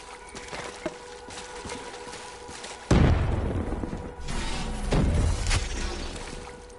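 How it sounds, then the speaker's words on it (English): An explosion erupts in the video game XCOM 2, a sudden heavy boom midway that cuts through quieter game sounds, followed by rumbling debris and a second surge of crashing noise. "The explosion blocked our path."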